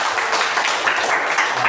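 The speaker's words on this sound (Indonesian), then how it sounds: "Tepuk tangan dulu." Classroom applause as students clap together after a group presentation, a dense, steady burst of hand claps heard up close.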